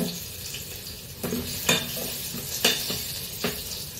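Garlic frying in a pan for tomato saar, a steady low sizzle broken by a few soft stirring scrapes, close and moderately quiet with no voices.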